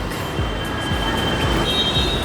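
A Mumbai metro train at Marol Naka station gives a loud, steady rumble with rhythmic low wheel thumps and a faint high whine running throughout.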